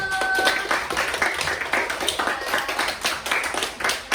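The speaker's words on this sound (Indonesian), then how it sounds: "Kita beri aplaus dulu" A classroom of students claps for a student group, producing dense, continuous hand clapping from many people throughout, close and fairly loud, with no talking.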